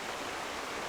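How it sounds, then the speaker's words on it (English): Steady roar of a waterfall in the game Final Fantasy XIV, a loud, unbroken broadband rush filling the whole clip with no voices over it. "Waterfall is loud."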